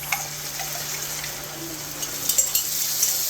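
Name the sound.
beef broth and spices added to browned meat in pan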